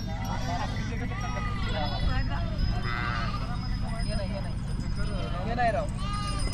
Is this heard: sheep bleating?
yes